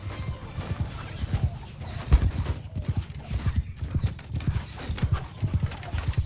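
Cavalry horses galloping in the video game Mount & Blade 2: Bannerlord, a loud, continuous mass of overlapping hoofbeats with an occasional whinny, rumbling steadily throughout.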